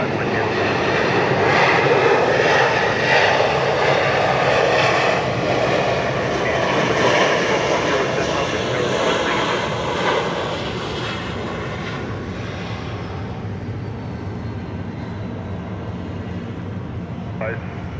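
At Atlanta Hartsfield-Jackson International Airport, a fixed-wing airliner roars past loudly and close on hazy air, then its engine rumble gradually fades. Air traffic radio chatter runs beneath it.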